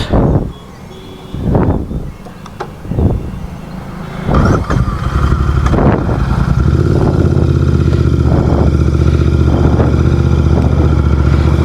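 Royal Enfield-style Continental GT 650 motorcycle ridden slowly on a punctured tubed tyre, engine rumbling loud and steady close by, with a few brief clattering bursts early before settling into a continuous drone.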